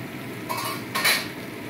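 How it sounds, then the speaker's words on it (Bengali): A lid lifted off a pot of chicken curry mid-cooking gives two short metallic clatters about half a second apart over a quiet kitchen background. "চলো ঢাকনাটা খুলে নিই"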